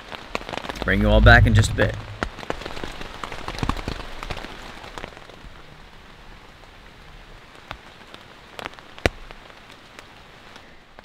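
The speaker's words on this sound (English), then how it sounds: "As you all can hear, it's still raining." Steady, moderate rain pattering on a LiteFighter one-person military tent at night, a continuous soft hiss with occasional sharper drops; someone speaks briefly near the start over the rain.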